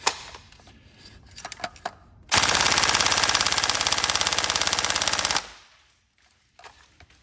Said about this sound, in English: quite a quick rate of fire on that one